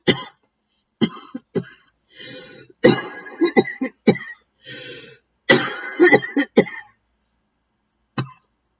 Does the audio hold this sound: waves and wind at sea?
no